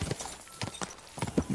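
Horse hooves in the video game Kingdom Come: Deliverance 2, a few uneven clip-clop thuds at a loose galloping rhythm, close and moderately loud with no talk over them.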